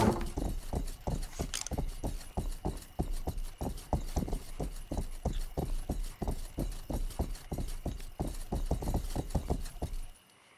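Horse hooves in the game Rustler clip-clop in a steady, even trot, close and fairly loud, with dozens of regular thuds that stop abruptly near the end, with no voices.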